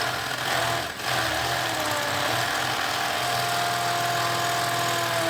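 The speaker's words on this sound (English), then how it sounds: "I still don't know what the hell they're drilling into." A drilling machine runs inside a cave, a steady loud mechanical drone with a harsh grinding texture that dips for a moment near the start and then continues evenly, with no voices.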